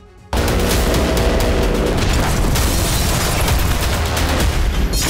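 A sudden loud blast opens into a sustained roaring rumble of explosions and gunfire from the Russia-Ukraine war, dense and continuous.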